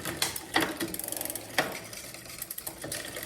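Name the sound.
shifting Shimano rear derailleur gears on a Klein road bike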